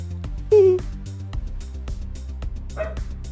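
A dog named Paige barks indoors, a few sharp yips and bow-wows close by, one louder bark standing out among softer whimpering yelps over a quieter background.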